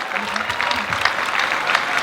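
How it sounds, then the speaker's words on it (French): An open-air audience at the Afro Kongo Cinema 2019 event applauds a guest, steady clapping from many hands with a few voices murmuring underneath. "J'aimerais qu'on applaudisse la personne qui est à la base de ACOP 2019, Madame Bijou Zadio"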